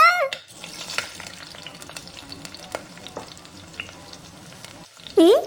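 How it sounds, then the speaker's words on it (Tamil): Food sizzles and crackles steadily in a pan, with scattered pops and stirring clatter, ending in a brief high squeak. "கிச்சன்ல இருந்து ஏதோ சமைக்கிற சத்தம் கேக்கு"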